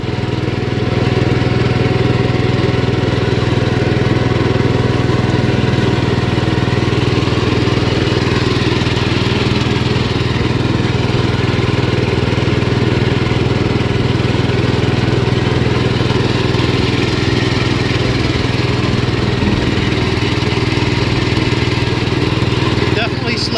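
A 1973 Gravely 814 walk-behind tractor fitted with a front drive kit runs continuously, a loud, close, steady engine drone that holds its pitch throughout.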